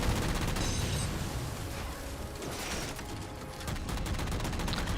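Rocket launcher fire in Halo 4, a dense volley of loud overlapping blasts and mechanical clatter that swells, dips and returns in bursts, with no voices over it.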